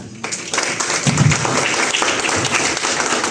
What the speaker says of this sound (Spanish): Recibimos con un aplauso al maestro Martínez Ballina